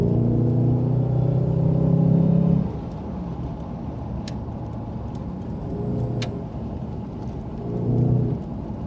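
A Jaguar XK8 V8 on an aftermarket exhaust rumbles from inside the car, a deep loud revving drone that eases off into a lower cruising burble, then swells again near the end.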